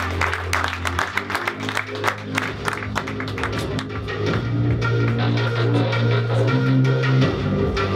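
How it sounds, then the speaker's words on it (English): An audience claps to welcome a speaker onto a stage, a crowd's scattered then fuller applause over a low steady hum, loudening in the second half. "Applause for Michael."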